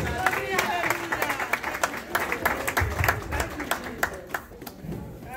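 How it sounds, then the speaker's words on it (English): A church congregation claps their hands in a steady, rhythmic beat during a service, with voices speaking and calling out over the clapping throughout. "Clap your hands and give God glory."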